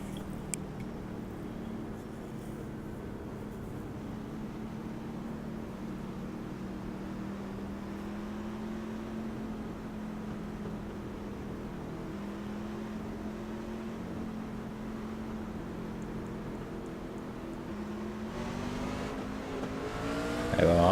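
Racing trucks in an iRacing truck series at Iowa drone with a steady, continuous engine tone that climbs in pitch near the end as they accelerate at a restart, loud and close with no talking.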